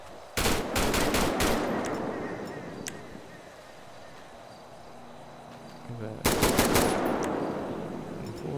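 Bursts of rapid AK rifle fire in a video game roleplay, one burst near the start and another later, with quieter ambient noise and faint background sounds in between.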